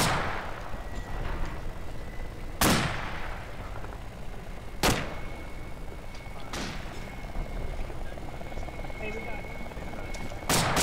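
Sharp rifle shots in the ArmA video game, three distinct reports spaced a couple of seconds apart over steady helicopter-like drone and ambient noise, with another shot at the end.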